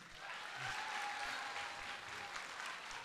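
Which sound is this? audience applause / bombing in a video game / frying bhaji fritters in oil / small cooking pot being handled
audience applause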